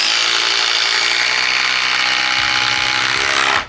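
A Makita impact driver drives a 5-inch Spax screw into wood, a loud continuous rattling whir with rapid hammering that holds steady for over three seconds and then cuts off abruptly at the end.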